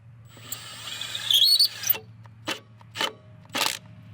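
A Milwaukee M18 FUEL Gen II 1/2-inch mid-torque impact wrench snugs a bolt down with its auto stop feature, giving a close motor whine and then several short, sharp hammering bursts separated by brief pauses.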